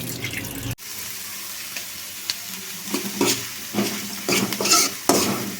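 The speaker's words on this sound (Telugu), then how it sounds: "ఇగోండి 3 పచ్చిమిరపకాయలను అయితే వేసుకున్నాను. ఇవి కలర్ చేంజ్ అయ్యేదాకా బాగా ఫ్రై చేసుకోవాలి." Green chillies sizzle in hot oil in a pan as a spoon stirs them, with scraping knocks and crackles over a steady frying hiss.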